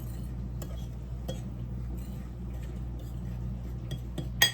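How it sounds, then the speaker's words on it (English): Garlic and herb seasoning being stirred in a bowl in a home kitchen, faint scattered clinks of utensil against bowl over a low hum, ending with a sharper knock. "Now let's give this a mix"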